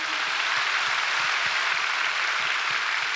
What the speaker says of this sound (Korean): 우리 한번 하나님께 영광의 박수 부탁합니다.